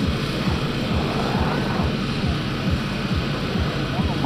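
A Nanchang CJ-6A propeller airplane performs at an airshow, its engine droning steadily and fairly loud throughout, with a constant rough rumble and no clear pauses.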